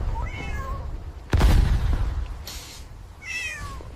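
A cat meows several times, short mewing calls at the start and again near the end, with a loud thud in between and steady background noise throughout.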